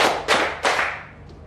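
Students in a biology class clapping in unison on a teacher's cue, giving a few crisp, loud group claps spaced evenly, then fading into quiet room tone.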